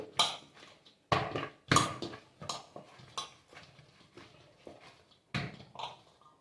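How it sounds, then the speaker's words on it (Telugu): Fenugreek khakra dough mixed by hand in a bowl, close irregular knocks and clatters against the bowl with soft kneading sounds between them. "ఈ విధంగా కలుపుకోవాలి పిండిని"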